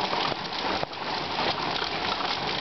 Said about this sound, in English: So for all the rain deprived people, you know, here's a bit of rain.